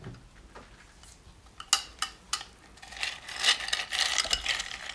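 Pieces of ice are dropped into a blender for homemade banana milk, giving several sharp, close clinks and knocks followed by a rougher rattling clatter as more ice goes in.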